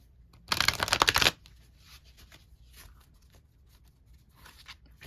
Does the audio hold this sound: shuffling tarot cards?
yes